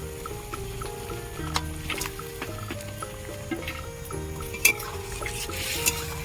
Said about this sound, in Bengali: এইভাবে কিছুক্ষণ আমি কষিয়ে নেব মাছগুলো